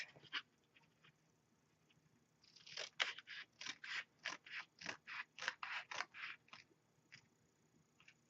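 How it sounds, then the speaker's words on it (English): Scissors snip along a score line in a cardboard Halloween treat box, a quick rhythmic series of close, crisp cuts after a few scattered ones, with no talking. "So you just want to cut into that score line, okay?"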